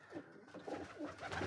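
Pigeons cooing at their nests, a steady run of soft, low, rolling coos repeating close by with no voices.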